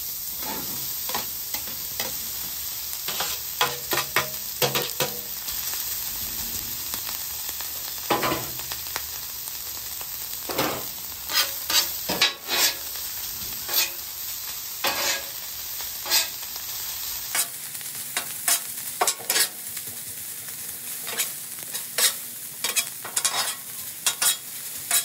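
Fried rice stirred and broken up with a spatula on a hot hibachi griddle, a steady sizzle under repeated sharp metallic scrapes and taps, close and fairly loud with no talking.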